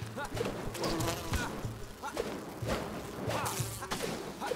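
Bees buzzing in the Enshrouded survival video game, a faint intermittent droning hum under thumps and game ambience, with no talking.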